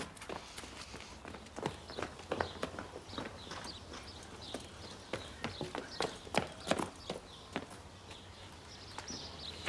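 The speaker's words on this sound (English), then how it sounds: "a horse had got loose" A loose horse walks nearby, its hooves clip-clopping in an uneven rhythm on a hard yard surface, with some scuffing and faint outdoor ambience.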